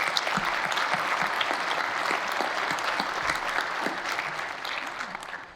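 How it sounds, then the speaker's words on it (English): Crowd at a chamber of commerce celebration gives sustained applause, a thick continuous patter of many hands clapping that stays loud before easing slightly at the end. "I really would like for all of us to give them a big round of applause."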